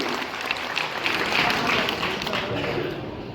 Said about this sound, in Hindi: तालियों की गड़गड़ाहट से इस बात का सभी अभिवादन करें।